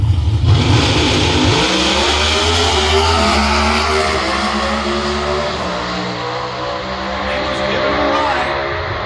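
Drag racing cars at the U.S. Nationals eliminations launch down the strip with a loud, sustained engine roar that fills the whole stretch, staying strong as they pull away.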